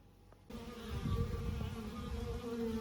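A swarm of honey bees being shaken out of a hive, buzzing loudly close by, a steady droning hum that swells in after a quiet start.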